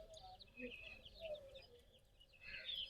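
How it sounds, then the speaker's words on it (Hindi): Desi hens cluck on a free-range poultry farm. The short, scattered clucks and calls are faint and distant over a quiet background. "देसी मुर्गी होती है।"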